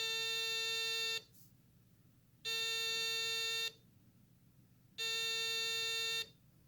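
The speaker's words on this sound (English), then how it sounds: "our photocell will determine that it's dark by emitting an alarm through the speaker" A photocell dark-detector circuit sounds its alarm through a small speaker: three loud, steady electronic tones of about a second each, separated by short silent gaps, with no talking.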